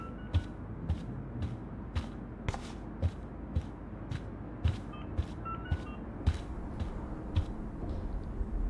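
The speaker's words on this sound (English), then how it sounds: "At least that's an alarm from this century." An alarm in the video game Life is Strange beeps in a steady, evenly spaced rhythm, fairly faint and repeating over quiet background noise.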